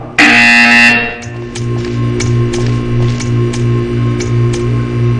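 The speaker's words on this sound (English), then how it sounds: "You will hear a buzzer. When you hear the buzzer, stare at the art." A repeating buzzer in the video game Portal 2 sounds as a steady series of loud, evenly spaced low buzzes after an initial burst, with no talking.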